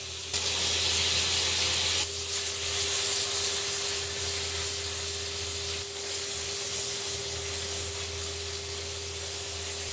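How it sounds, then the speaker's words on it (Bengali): Chicken pieces skin-side down sizzling in a hot pan, left unstirred, giving a continuous bright frying hiss with crackling, close and steady for the whole stretch over a low electrical hum. "আমরা অ্যাকচুয়ালি চাচ্ছি হচ্ছে চামড়াতে একটা সিজল টাইপের হইতে আর কি"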